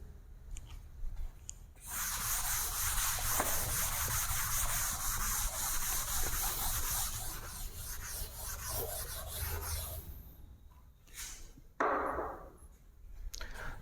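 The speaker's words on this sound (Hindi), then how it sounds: "मैं इसको रब कर रहा हूं" Steady rubbing and scraping as writing is wiped off a classroom board, a continuous coarse swishing lasting several seconds, close and fairly loud, followed by a few brief wipes and taps.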